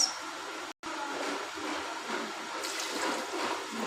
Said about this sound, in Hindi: अब पानी डालते हैं इसमें